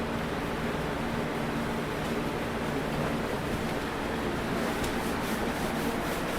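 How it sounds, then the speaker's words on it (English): Light hand sanding on a painted wooden cabinet face frame, a steady soft abrasive rubbing that runs close and continuous with no talk over it. "And then just lightly sand it."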